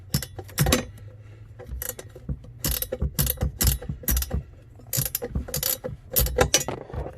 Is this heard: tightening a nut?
yes